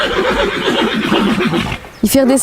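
A horse neighs loudly in a long, wavering whinny, followed after a brief pause by a short snort or nicker.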